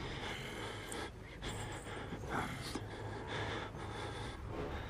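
Heavy, labored breathing of the player character in the horror video game Outlast, set in dark basements; repeated gasping inhales and snorting exhales over low ambient game noise.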